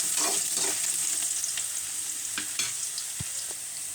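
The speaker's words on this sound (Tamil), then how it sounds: "சேர்த்து இது நல்லா பச்சை வாசனை போகிற அளவுக்கு வதக்கிக்கோங்க." Garlic and ginger fry with urad dal in a pan, a steady close crackling sizzle broken by occasional scraping stirs.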